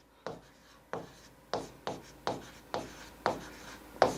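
A pen scratches on paper in seven short, evenly spaced strokes as someone writes out the working of a class 10 maths problem, close and distinct, with no talking.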